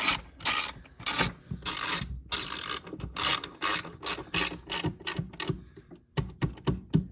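A ratchet wrench clicks in quick rhythmic bursts while tightening a connecting rod bolt on a 2003 car's front left engine mount during a torque arm install, with close, loud pawl clicks and short gaps.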